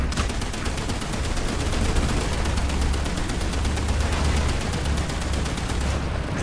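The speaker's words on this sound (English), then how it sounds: "Just love all my machine guns." Tank machine guns in War Thunder rattle in one continuous, dense burst of rapid fire, loud and close, with a low rumble underneath.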